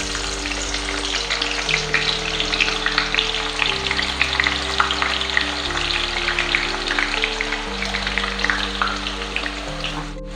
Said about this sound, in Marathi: तेल तापलेलं आहे, मी कांदा घालून घेतेय